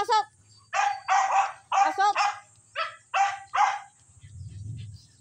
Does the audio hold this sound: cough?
no